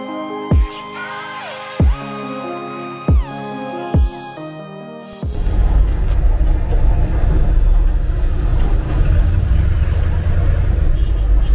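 A few musical tones and thumps, then the loud, steady rumble of a car driving through Pakistan's capital at night, engine and tire noise filling the cabin.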